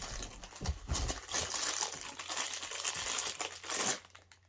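A biscuit wrapper crinkles and rustles almost nonstop for a few seconds, close up and moderately loud, with no talking over it.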